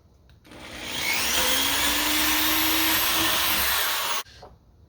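A power drill boring a pilot hole with a 1/2-inch bit runs steadily at high speed for about three seconds, loud and close, then cuts off abruptly into quiet.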